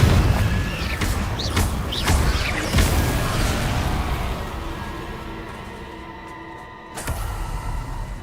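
A Confringo fire spell bursts in Hogwarts Legacy with several sharp crashes and whooshing impacts in the first few seconds, then a lingering rumble that settles, broken by one more hit near the end.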